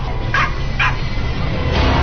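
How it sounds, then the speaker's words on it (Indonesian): A dog gives two sharp barks, growling and snarling, as a sound effect in a horror radio drama, set against a constant low rumbling background hum. "dia terus menggonggong sambil menggeram dan melihat ke arah tempat jemuran yang ada di halaman belakang"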